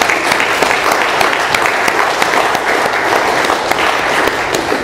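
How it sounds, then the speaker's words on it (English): An audience at an Alcoholics Anonymous meeting in Doylestown, Pennsylvania, claps for the speaker, Rory. The dense, steady applause fills the room and holds loud and even throughout. "Rory, one more round of applause."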